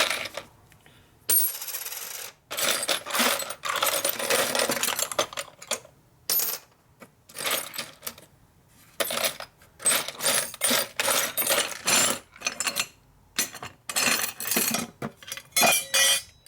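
Metal washers and 4-speed transmission parts from a 1965 Harley-Davidson Panhead are handled and set down, producing many sharp clinks and jingles in irregular bursts, close and fairly loud, with no talking.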